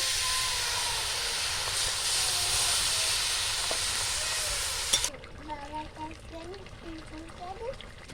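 Water poured into spiced potatoes in a hot pan, giving a loud, steady steamy hiss that runs for about five seconds and then cuts off abruptly, leaving faint bubbling while someone speaks.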